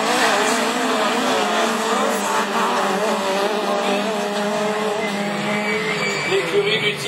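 Rallycross race cars, among them a Peugeot 206, roar past continuously on a Division 4 circuit at Châteauroux, a dense layered engine drone with shifting revs, with a commentator talking throughout.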